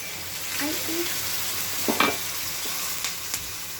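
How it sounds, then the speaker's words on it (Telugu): Crushed garlic, coriander and curry leaves hitting hot oil in a rasam tempering, a steady close sizzle with a few sharp crackles and stirring scrapes, no voices. "ఇందులో ఇప్పుడు దంచి పెట్టుకున్న వెల్లుల్లి, కొత్తిమీర, కరివేపాకు పచ్చపచ్చ దంచి వేసుకోవాలి"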